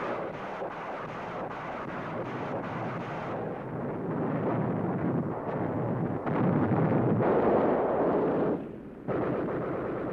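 Barrage of rocket launcher fire raining on a town in a World War II Sherman tank video game, a dense, continuous roar of booming blasts and rumbling explosions, loud and sustained throughout with no talk.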